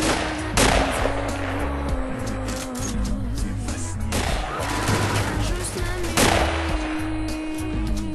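Sniper video game gunfire sounds as loud sharp shots at the start, middle and later, each followed by a ringing tail and in-game noise, with a steady background tone throughout.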